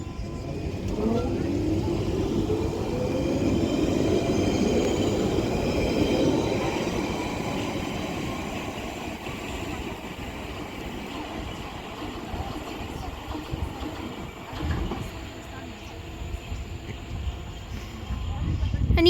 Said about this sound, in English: Now departing is going to be another Central Line 92 stock.